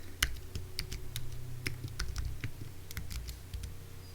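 Rapid, irregular clicking of keys on a Mac keyboard as a password is typed, light close taps in uneven bursts with no talking.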